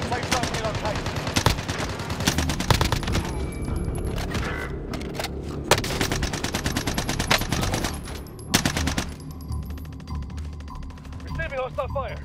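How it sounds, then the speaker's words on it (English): Hostile gunfire erupts in a video game, with rapid machine-gun bursts and repeated sharp shots rattling near and loud over several seconds, broken by brief pauses and followed by scraping and scattered smaller noises. "Receiving hostile fire."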